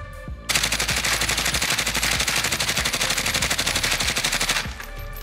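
Rapid suppressed automatic gunfire from a weapon with heavy attachments in Call of Duty Warzone, a dense, steady burst of muffled shots lasting several seconds with a short lead-in and tail.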